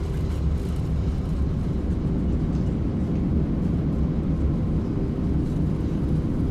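A heavy jet in a flight simulator game roars with reverse thrust after touchdown, a dense, steady low rumble that fills the whole stretch without pause or voices.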